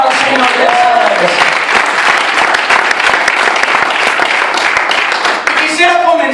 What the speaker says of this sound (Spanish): Dale un fuerte aplauso al Señor de esta vez.